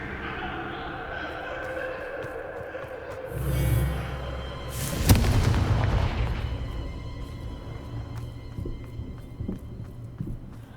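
Confringo and Bombarda spells explode in the Hogwarts Legacy video game. Two heavy booms land a second or so apart over an ongoing game soundscape, and a voice talks around them.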